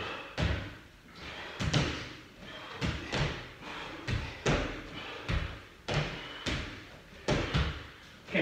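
Repeated thudding landings from squat jumps on a floor during an at-home leg workout, about ten heavy thumps in a steady rhythm, close and loud.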